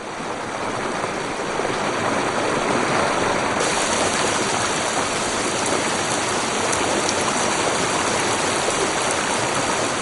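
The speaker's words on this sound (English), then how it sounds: "a wall of water and mud, some said it was 12 feet high, smashed down onto the campsite" A torrent of flood water and mud rushes through a campsite, a dense, loud, unbroken roar of churning water with a faint steady whine above it, continuous throughout.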